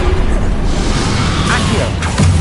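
Confringo fire spell blast in the Hogwarts Legacy video game, a loud whooshing burst over dense, continuous game noise with voices in the mix.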